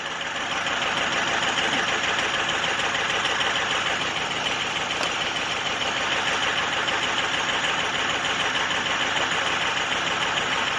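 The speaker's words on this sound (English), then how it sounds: "Oh yeah, it's running rough. Fired right up though." A 2005 Ford F250 with a 6.0 Powerstroke diesel idling roughly after a cold start at 39°F, a steady, dense clattering engine drone that continues unbroken and fairly close, with no talk.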